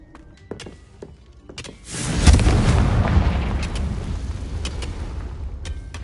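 A Confringo explosion spell bursts in Hogwarts Legacy, starting with a few sharp clicks and then a loud, booming blast that rolls into a long, rumbling decay, with scattered sharp effects on top.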